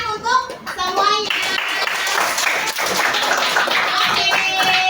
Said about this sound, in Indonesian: Ayo kita tepuk tangan untuk semuanya.